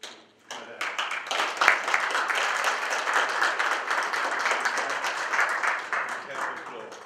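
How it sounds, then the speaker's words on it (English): Audience in a conference hall breaks into sustained applause after a brief quiet moment, a dense, steady patter of many hands clapping at moderate distance, with some voices mixed in. "Give an applause to Madame."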